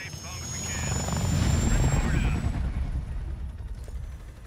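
A helicopter flies in the Vietnam mission of Call of Duty: Black Ops Cold War, a loud rotor drone swelling then holding steady, with a high whine above it and game voices over it.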